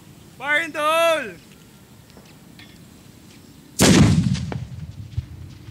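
A calcium carbide cannon fires once with a sharp, loud, close boom that rolls off into a decaying rumble. A voice shouts briefly earlier, and quiet outdoor ambience fills the gap before the blast.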